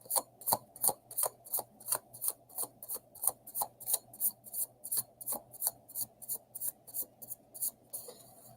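Quick, regular riffling of tarot cards, about two to three crisp snaps per second, close up and steady with no talking.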